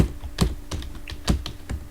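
Computer keyboard typing Python code, a handful of close, distinct key clicks spaced irregularly over two seconds, with no voices.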